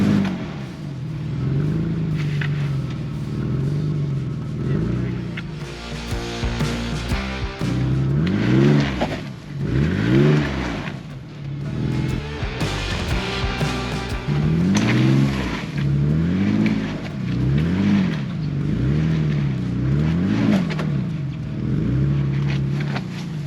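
Jeep Liberty driving off-road through a creek crossing on Horse Creek Trail, its engine revving in repeated surges under loud, continuous rushing and splashing water, close and sustained throughout.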